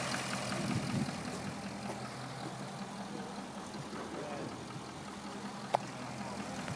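A 2012 Chrysler 300 SRT8 with a 6.4-liter Hemi V8 idles steadily with the hood open, a low continuous rumble heard close up, with a single sharp click near the end.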